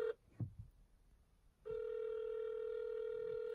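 Telephone ringing unanswered at a makeup artist's business, a brief tone cut off, a short pause, then a long, steady electronic tone sounding on alone and clearly.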